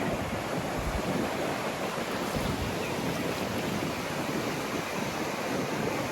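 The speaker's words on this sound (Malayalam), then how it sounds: "നല്ല തിരമാറ്റുണ്ട് കേട്ടോ" Ocean surf rolls in at Barmouth beach in Wales, a dense, continuous wash of breaking waves mixed with gusting wind buffeting the microphone, with no talk.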